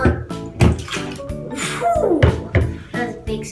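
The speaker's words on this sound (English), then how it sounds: "That was a big splash" Coloured water splashes and sloshes during a snow-volcano winter activity, in a few loud close bursts of gushing, sloppy water, with no talk.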